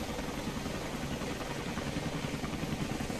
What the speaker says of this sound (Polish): to jakiś latający czołg jest, a nie śmigłowiec.